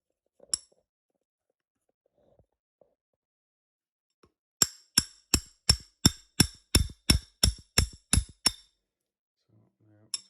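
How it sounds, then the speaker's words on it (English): A metal spanner taps a tap part into place with about a dozen quick, sharp metallic knocks in a steady rhythm, close and clear. Earlier there is a single knock and some faint handling sounds. "You will have to give that a tap with the spanner again."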